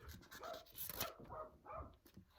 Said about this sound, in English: The dog's annoying.